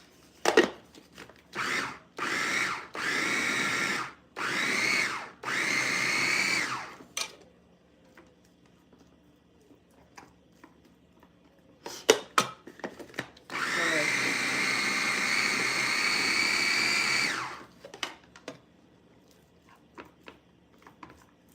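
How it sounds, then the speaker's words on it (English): A blender chops minced pork with shrimp, first in about six short, loud pulses, then after a pause with scattered clatter in one long, steady whirring run. "I'm gonna blend it with the shrimp"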